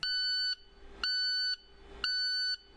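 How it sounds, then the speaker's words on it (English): Three loud, evenly spaced electronic beeps from an International TerraStar's DPF warning alarm, each about half a second long, sounding at a steady one-per-second rhythm. "If the DPF light is flashing with a beeping alarm"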